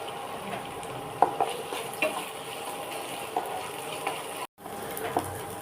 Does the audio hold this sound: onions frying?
yes